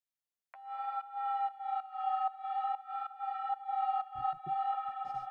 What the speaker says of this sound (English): the next thing that we have here is this little drone